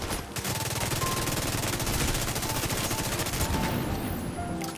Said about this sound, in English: It's not a bad weapon to shoot